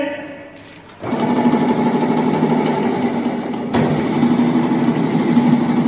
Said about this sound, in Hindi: यह हो गया हमारा कूलेंट पंप असेंबली।